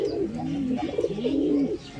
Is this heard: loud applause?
no